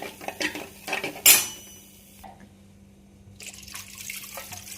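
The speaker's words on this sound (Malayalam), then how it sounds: "ഇനി ഇതിനകത്തേക്ക് കുറച്ച് വെള്ളം ഒഴിക്കുക." Water poured into a cooking pan for an oakleaf fern soup, heard as a splashing pour after clattering utensils and metal clinks, followed by a quieter stretch and renewed soft liquid sounds.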